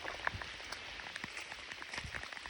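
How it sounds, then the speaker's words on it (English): Driving rain falling in woods during a late-season public-land bow hunt for deer, a faint, steady patter of drops with occasional sharper taps, the wind picking up. "It's driving rain, and I was honestly okay with the rain, but that wind started picking up."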